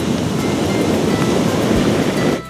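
Heavy surf roars at Puri beach on the Bay of Bengal during the monsoon, a loud, steady wash of breaking waves that fills the scene without pause before dropping off abruptly at the end.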